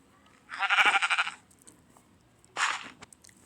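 Sheep in the Minecraft video game bleating twice, a long wavering baa followed by a shorter one about two seconds later, clear and close against near silence.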